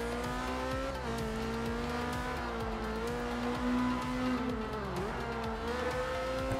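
A race car engine in the video game Forza Horizon 2 revs hard at speed, with rising and falling gear pitch, brief shifts and a loud, continuous whine, alone without talk.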